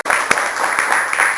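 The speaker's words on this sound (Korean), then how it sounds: "우리 박수 한번 쳐서 그렇게" A short burst of applause from a temple audience at a Buddhist dharma talk, a dense near wash of clapping that runs steadily through its brief length.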